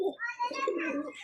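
Soft, throaty pigeon cooing close by, a few rolling coos in quick succession with a faint higher chirp near the end.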